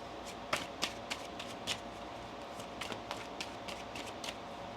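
A deck of tarot cards being shuffled and handled nearby, with soft riffles and sharp snaps scattered over a quiet room.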